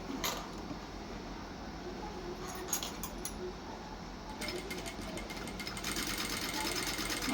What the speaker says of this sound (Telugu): ఇప్పుడు మార్కింగ్ చేసుకున్న విధంగా స్టిచ్చింగ్ చేసుకుందాము